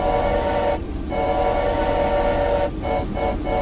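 A train in the video game Choo-Choo Charles, with a sustained horn-like whistle tone over a rumbling engine drone, broken by a gap near the start and several short interruptions toward the end.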